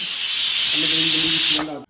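A pressure cooker whistle blows loudly, a strong continuous hiss of escaping steam with a faint tonal whine underneath, then cuts off abruptly after about a second and a half.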